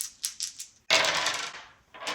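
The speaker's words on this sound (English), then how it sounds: "And then I roll all 3 danger dice." Three danger dice from the Dinosaur World board game tumble and rattle across a hard surface, a couple of quick clicks followed by a longer clattering roll that settles, then a brief final clack, with no talking.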